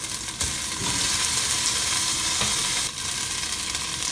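Ginger garlic paste and tomato sizzle in a hot pan, a steady close frying hiss with brief stirring breaks and no voices.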